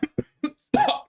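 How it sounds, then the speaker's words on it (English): Three short dry coughs in quick succession, then a longer, harsher cough, close and fairly loud with no talking. "Sorry, I've got a cough."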